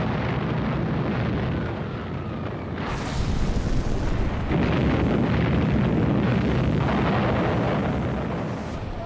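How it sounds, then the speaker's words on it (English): A heavy naval and aerial bombardment rolls on during the WWII D-Day landings. Dense, roaring rumbles and booming blasts blend into a loud, continuous wash, with sharper bursts near the start and in the middle. "Under cover of the bombardment"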